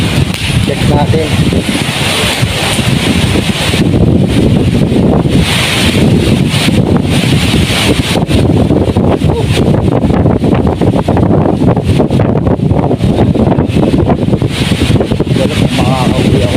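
Strong wind buffets the microphone in loud, continuous gusts, roaring and rumbling throughout, with a voice faintly audible beneath.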